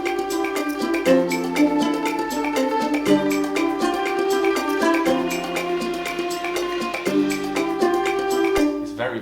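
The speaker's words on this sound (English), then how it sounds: "I have a cymbal roll here." A composed music track plays steadily with layered instruments, and a very subtle cymbal roll sits low in the mix beneath sustained chords and a rhythmic pulse, barely standing out from the arrangement.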